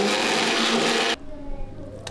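A mixer grinder whirs loudly as it grinds coconut, urad dal and chillies with a little water for chutney, running steadily for about a second before cutting off abruptly into quiet.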